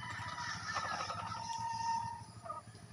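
A chicken kept in a coop calls out in a few loud, close squawking cackles, with a honking quality, followed by a short final squawk.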